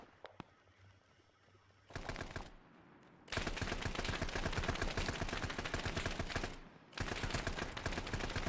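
Long sustained machine-gun bursts in ArmA 3, loud and continuous rattling fire in two extended strings separated by a short pause, preceded by a couple of isolated shots over quiet ambience.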